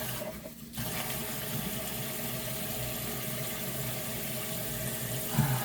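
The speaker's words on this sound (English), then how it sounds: "I need to wash this off." Kitchen tap running steadily as something is rinsed under it while prepping dinner, a constant close splashing stream with a brief knock near the end, no talking.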